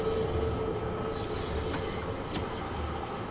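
A London Underground Bakerloo Line train runs in Train Sim World 2, giving a steady rolling rumble with a faint squeal of wheels and occasional clatter, continuous and close, with no talking.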